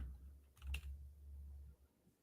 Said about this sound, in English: you just start typing in like Johnson